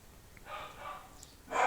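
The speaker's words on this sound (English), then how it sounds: "My dogs are barking in the background." Dogs bark in the background of a room, two short muffled bursts with a louder one at the end, fairly faint and distant, with no talking.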